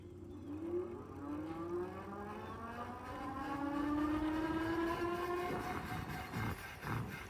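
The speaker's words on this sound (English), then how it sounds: "Going straight to full battery, full mode, full speed launch." A cheap stunt electric bike launching at full speed on full battery and full mode, its motor whine rising steadily in pitch and holding near and loud for several seconds before tapering off.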